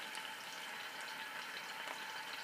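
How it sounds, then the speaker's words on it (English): Scallops sear in a hot pan with a steady, fairly quiet sizzle and crackle that runs on evenly, with no talking. "So now that we have our scallops searing, we'll just take a minute to cook these guys."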